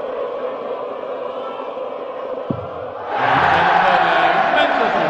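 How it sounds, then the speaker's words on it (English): Darts crowd at the 2018 Austrian Darts Open erupts into a loud, sustained cheer after a throw, rising suddenly from a steady murmur of chanting spectators and holding at full volume to the end. "And a big cheer if it goes in"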